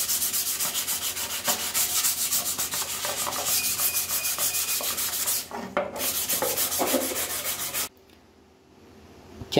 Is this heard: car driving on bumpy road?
no